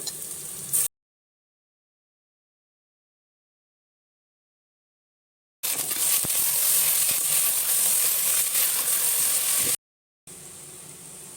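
Basmati rice sautéing in a pan with ginger garlic paste, a steady broadband sizzle with stirring, loud and close, heard in two bursts separated by a long silent gap.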